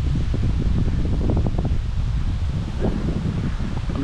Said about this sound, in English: It's just windy, man. Today is a windy day.